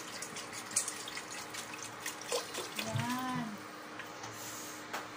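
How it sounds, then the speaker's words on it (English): Water runs and splashes into a pot of onions for tom yum soup for a few seconds, with a short voiced sound partway through and quiet kitchen noises around it. "Next, put water."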